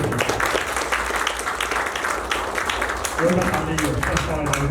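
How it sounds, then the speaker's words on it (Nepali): An audience applauds at a literary award ceremony of Matribhumi Sahitya Samaj in Hetauda, Makwanpur, with dense, continuous clapping and a voice speaking over it toward the end. "सबैले मिलेर ताली"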